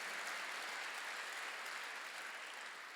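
A church congregation claps together during a sermon, a short, dense burst of applause heard at a distance and fairly faint, fading slightly toward the end.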